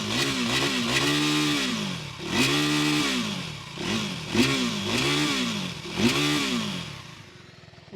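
A KTM Duke 390 motorcycle revs in a series of five sharp throttle blips, each rising and falling in pitch, close and loud, with a rough idle between them and the engine settling down at the end.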